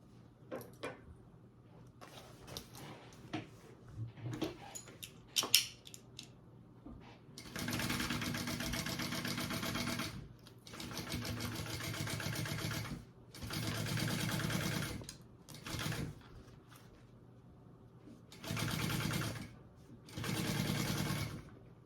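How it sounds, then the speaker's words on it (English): A sewing machine stitches the seam of a tote bag in several separate bursts, each a steady whirring run lasting a few seconds, with quiet pauses and small handling clicks between them. "And then I'm going to sew that on at our full seam allowance."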